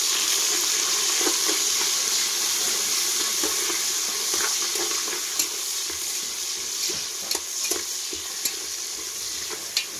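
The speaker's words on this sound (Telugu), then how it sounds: "ఆనియన్ ముక్కలు వేసేసుకొని బాగా కలబెట్టుకుందాం." Chopped onion pieces sizzle in hot oil with spices for a chicken curry, a steady loud frying hiss broken by scraping, clattering stirs of a spoon in the pan.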